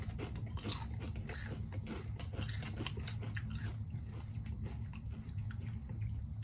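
Doritos Flamin' Hot Limón tortilla chips are bitten and chewed close up. The crunching is soft and repeated, with quiet mouth sounds and no talking.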